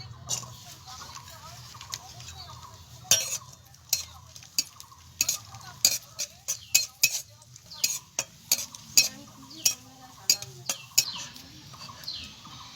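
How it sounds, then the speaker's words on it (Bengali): Raisins fry in hot oil in a pan while a spatula stirs them, cooking for a flattened-rice pilaf. A steady soft sizzle runs underneath irregular, close, sharp scrapes and clicks of the utensil against the pan. "কিশমিশ ভেজে নেব"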